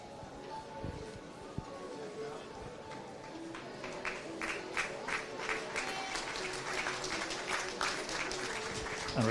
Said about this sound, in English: receives a nice applause from the crowd